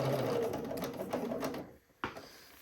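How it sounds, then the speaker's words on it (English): A sewing machine topstitches a shirt in a steady, close whirring run that slows and stops partway through, followed by a single sharp click. "So now we are just going to top stitch"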